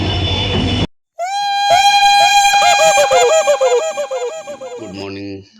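A Tutari Express train pulls in, sounding a loud, close horn of stacked wavering tones that bend and pulse for several seconds after a short burst of rumbling noise.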